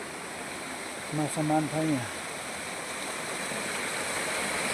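A mountain stream at a fishing spot in Baglung rushes in a steady broadband wash from start to end, with a voice speaking briefly over it early on.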